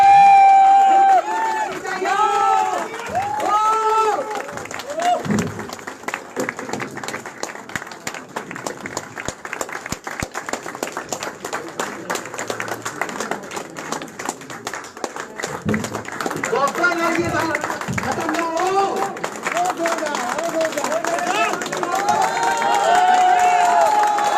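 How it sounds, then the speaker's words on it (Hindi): A gathered audience keeps up long, sustained rhythmic clapping, crisp and close, with scattered cheers and crowd voices mixed in. The clapping thins slightly midway and swells again toward the end. "तालियां बजती रहनी चाहिए।"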